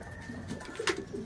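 A racing pigeon coos and flutters briefly at its loft during summer race training in Pagbilao, Quezon, a soft near sound with a short louder burst midway and no talk.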